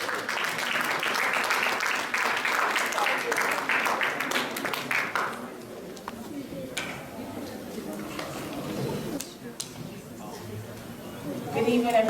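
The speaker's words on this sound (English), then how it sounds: "Please give her a round of applause." An evening Black History Month event audience gives a sustained round of applause for a deputy mayor, steady clapping filling the room for several seconds before thinning out under murmuring voices and a few late claps.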